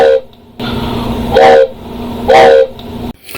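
A loud train whistle sounds twice over a steady rolling rail rumble with the clatter of railroad cars, both blasts close and strong, as part of a train sound effect.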